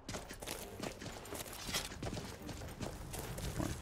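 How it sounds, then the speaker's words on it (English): Horse hooves clip-clopping in the video game Skyrim Special Edition, a run of irregular thuds and clops on the ground, moderately close but quiet, with no talk over them. "Horses are over here."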